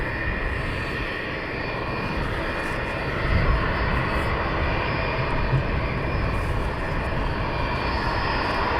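Jet engines of departing F-15 fighters at East Midlands Airport at night, a steady broad roar that holds evenly throughout and swells slightly midway, with no voices.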